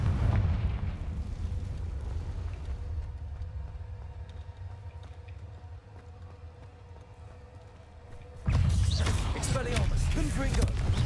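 Confringo fire spell blasts in Hogwarts Legacy, a low rumbling roar that tails off over several seconds before a second loud burst erupts near the end, close and heavy.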